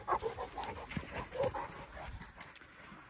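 Three dogs barking in short bursts nearby, with outdoor movement and some light clatter in the background.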